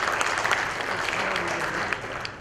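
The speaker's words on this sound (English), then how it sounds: "let's welcome him with his round of applause again" An audience at the Glocal Teen Hero 2016 ceremony applauds a finalist, steady dense clapping that holds loud throughout and eases slightly at the end.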